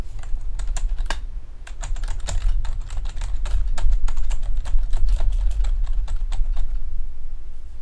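Rapid, uneven keystrokes on a computer keyboard clatter close by over a steady low hum, with brief pauses between bursts of typing at a Linux boot prompt.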